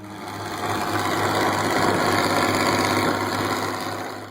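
A Farmall 560 diesel tractor engine runs at a steady speed, giving a loud, continuous droning hum with a strong low tone and a fast, even mechanical chatter that swells slightly mid-way.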